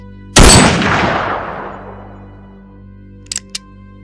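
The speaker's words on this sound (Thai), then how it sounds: "ปลดเซฟปืน แล้วจึงเหนี่ยวไกซาโก้จุด375ไปทันที" A Sako .375 rifle fires a single loud, sharp shot at night in a forest, and its boom decays slowly across about two seconds. A few faint clicks follow near the end.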